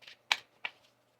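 Tarot cards shuffled by hand up close, in three quick papery riffling bursts with short pauses between, with no voices.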